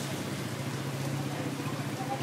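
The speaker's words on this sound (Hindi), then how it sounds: "बार बार बारिश हो रही है" Steady rain in Lahore patters continuously, a dense hiss of drops at moderate loudness with a faint low hum underneath.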